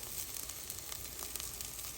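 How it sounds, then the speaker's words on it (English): Carrots sautéing over medium heat in a pan for Bolognese sauce, a soft, steady sizzle with faint crackles throughout and no voices. "it's actually been sauteing here for 25 minutes"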